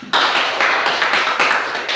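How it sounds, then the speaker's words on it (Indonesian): A classroom of students breaks into applause, a dense steady clapping that starts abruptly and carries on loud and close for the whole stretch, with slight swells in intensity and no talking over it. "Oke, boleh duduk tepuk tangan."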